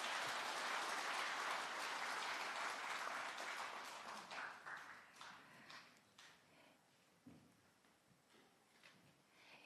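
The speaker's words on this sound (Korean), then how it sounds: "사단법인 대한노인회 이중근 회장님께 다시 한번 큰 박수 부탁드립니다." Audience applause at a Parents' Day ceremony, a full round of clapping that stays steady for several seconds and then tapers off into scattered, fading claps near the end.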